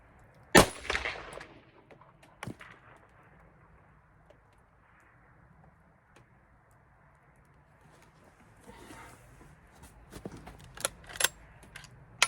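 A Sako Finnbear L61 rifle chambered in 30-338 Win fires a single sharp, loud shot early on, followed by quieter outdoor ambience with scattered faint clicks and knocks.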